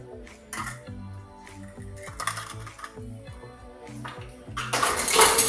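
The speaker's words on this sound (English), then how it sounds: "We have this preheated pan. It's nice and hot. We're gonna add 1 cup of water in there. 1 cup of oil in there." Water and oil are poured into a preheated hot pan for a Vietnamese spicy beef noodle soup, ending in a loud, bursting sizzle over background music.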